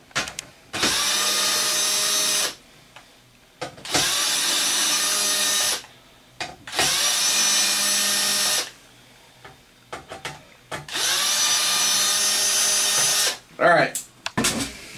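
Four bursts of a power drill with its clutch set to the lowest setting, each running a couple of seconds with short pauses between, backing small case screws out of an Xbox 360 with the red ring of death; a few brief clicks close it out.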